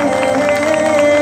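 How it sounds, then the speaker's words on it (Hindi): Audience clapping and cheering at a karate, ninja and gymnastics show in a dharna setting, a brief loud crowd roar with scattered claps over a steady tonal hum, voices mixed in. "तालियां बजाएं"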